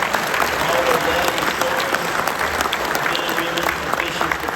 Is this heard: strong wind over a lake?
no